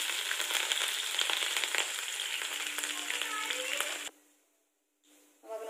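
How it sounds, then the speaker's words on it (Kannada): Green chillies dropped into hot oil with crackling cumin for a tempering while making chana masala, a loud dense close sizzle for about four seconds, then a sudden near-silence before the frying noise returns. "ಹಸಿಮೆಣಸಿನ್ಕಾಯಿ ಹಾಕೋತಾ ಇದ್ದೀನಿ."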